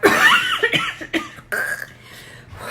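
A person coughs hard several times in quick, rough bursts after choking on a drink of water, close up, sounding strained and choked.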